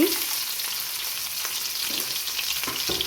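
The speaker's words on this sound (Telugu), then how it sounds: "ఆనియన్స్, కరివేపాకు వేసుకున్నాము. ఇది బాగా ఫ్రై అవ్వాలండి." Sliced onions and curry leaves with fenugreek seeds sizzling in hot oil for a fish curry, a loud close steady frying hiss with faint occasional stirring scrapes and no talk.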